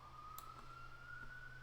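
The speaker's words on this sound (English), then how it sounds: "I apologize for the siren." Police siren passing outside a downtown apartment, a faint steady wail drifting slowly upward in pitch, distant and continuous behind quiet room noise with no talking.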